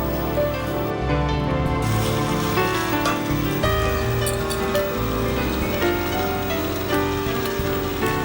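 Tomato masala rice with coriander leaves being mixed in a large pot over a lowered flame, a dense, continuous wet rustling and churning up close, with no talking.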